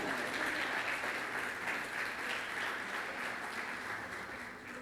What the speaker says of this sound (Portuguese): Você pode aplaudir a esse Deus